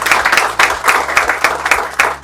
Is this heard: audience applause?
yes